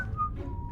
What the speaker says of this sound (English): accompanied by a casual whistling